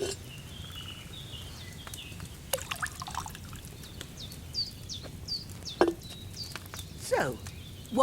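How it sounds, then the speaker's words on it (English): Wine poured from a pitcher into a cauldron in the medieval game Kingdom Come: Deliverance II, a soft intermittent trickle over quiet outdoor ambience with chirping birds and a few light knocks. "So, what did you pour in there? Wine, of course."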